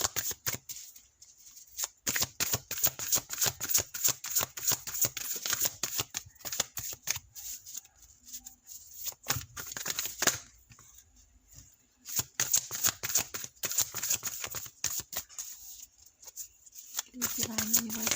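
Tarot cards shuffled over and over in a steady riffling rhythm across the clip, close and fairly clear, with a few brief pauses between bursts and occasional soft voice in the background.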